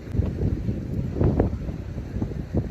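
Wind gusting through a garden beside a greenhouse, a steady rushing roar with buffeting microphone noise, no talk.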